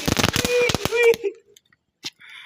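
A mini bomb firecracker bursts in a fast cluster of sharp cracks and pops, loud and close, then falls quiet with a few faint pops after.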